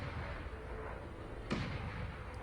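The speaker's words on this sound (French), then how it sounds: "Les bruits de canon qui annoncent le début de la danse martiale" Cannon fire in a video game announces the start of a martial dance, a distant booming blast rising out of a low rumbling background, followed by a fading echo.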